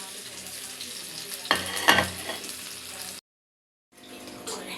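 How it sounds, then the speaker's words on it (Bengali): Food crackles and sizzles in a hot pan, with a couple of louder bursts of spattering, then a brief silence before the frying noise resumes, close up. "এই যে এক খোলা উঠাইছি আর একটা দিচ্ছি ভাজতে"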